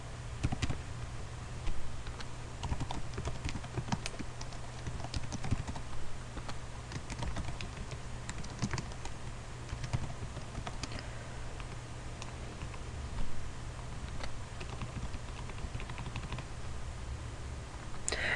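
Steady computer keyboard typing runs alone for the whole stretch, irregular fast keystrokes clattering close over a low constant hum, with no talk.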